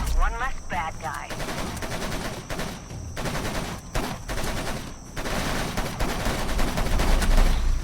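Dense gunfire from the video game Scourge Outbreak, rapid automatic bursts and overlapping shots, loud and continuous with brief pauses.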